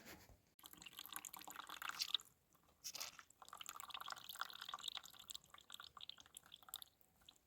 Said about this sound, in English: That is the water coming out of the shell.